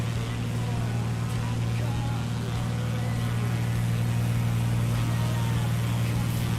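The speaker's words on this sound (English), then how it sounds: "Gotta love the engine noise and the purr of the 182." Cessna 182 Skylane piston engine in the Microsoft Flight Simulator 2020 video game, a steady, even droning hum from inside the cockpit that holds constant throughout, with talk over it.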